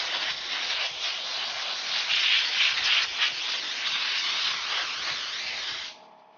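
Sandpaper working primer on a Suzuki GSXR 1000 motorcycle gas tank, a continuous close hissing scrape with rhythmic swells, stopping abruptly at the end.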